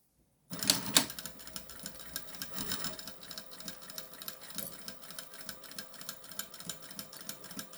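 Domestic sewing machine stitching a fabric placemat, a close rapid mechanical chatter that starts abruptly after a moment of silence and runs on steadily with a regular rhythmic clatter.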